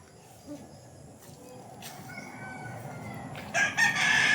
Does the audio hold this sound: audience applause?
no